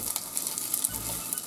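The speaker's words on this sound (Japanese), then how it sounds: "あらかじめ電子レンジで少し温めたチキンを今フライパンに乗せて" Pre-warmed store-bought fried chicken sizzles steadily in a frying pan on the stove, a continuous close crackle of hot oil with no voices.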